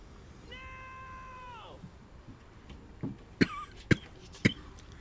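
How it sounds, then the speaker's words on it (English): A drawn-out meow gives way to a few sharp, dry coughs spaced about half a second apart, close and fairly quiet. "Excuse me, I'm coughing."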